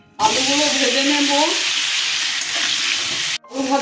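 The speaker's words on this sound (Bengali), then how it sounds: "আলুগুলো ভেজে নেব।" Potatoes hit hot oil in a pan for an egg and potato curry, a loud bright sizzle that bursts in suddenly and holds steady, with a short break before it surges again.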